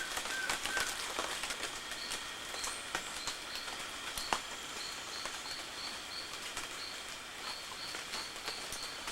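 Faint, repeated high bird call in a Venezuelan cloud forest at Yacambu, short notes recurring every second or so over a steady rain-like hiss of the surrounding forest.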